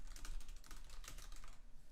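Quiet, rapid computer keyboard typing during a typing game played on stream, a steady stream of light key clicks with no talking.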